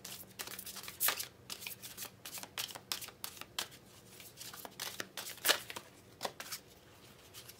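Tarot cards are shuffled by hand in a quiet room, giving soft papery riffles and crisp slaps in an irregular rhythm of short bursts, close and fairly faint, with no talking.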